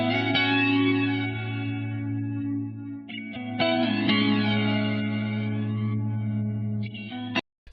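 An electric guitar run through a flanger plays sustained chords that sweep and swoosh. It stops briefly near the middle, comes back, then cuts off abruptly at the end. No voice is heard.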